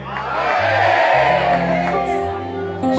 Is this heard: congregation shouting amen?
yes